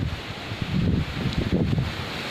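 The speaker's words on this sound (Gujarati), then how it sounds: "આ પવન કેવો ઉડ્યો બહુ ઉડ્યો" Gusty wind blows outdoors on a hot sunny day near babul trees, rushing and buffeting the microphone in uneven surges, with no talk.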